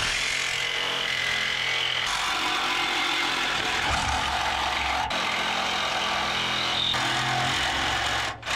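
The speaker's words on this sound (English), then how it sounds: "I got most of it trimmed off with the electric grinder" An electric grinder cuts off a shock mount during a first-generation Toyota restoration, making a steady, loud, harsh whine close by with brief shifts in pitch and no talking.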